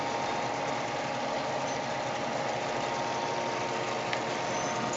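A Dover Soltec DeltaMax wave solder machine runs with a steady, even mechanical drone and hum, constant and fairly close, with no talk.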